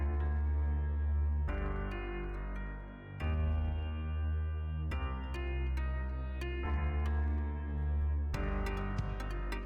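Synth bell melody soaked in reverb plays alone in separate sustained notes, each ringing on and overlapping into a bright, spacious chordal wash at moderate level.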